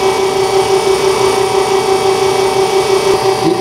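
A gyratory compactor wobbles an asphalt specimen mold, giving a loud, steady motor drone with a fixed tonal whine that holds unchanged from start to finish.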